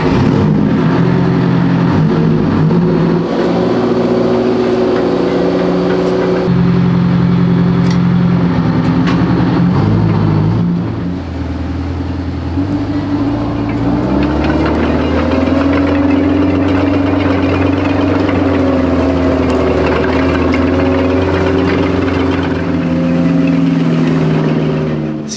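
An Australian WWII M3 Grant tank's engine runs with its exhaust fitted, a loud, continuous low rumble and drone that holds steady for about twenty-five seconds, with slight shifts in pitch and no one speaking.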